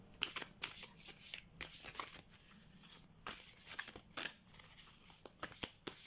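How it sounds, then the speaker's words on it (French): Oracle cards being shuffled by hand, a close run of crisp, riffling slides and soft slaps repeating unevenly throughout with no talk. "J'adore mélanger les cartes."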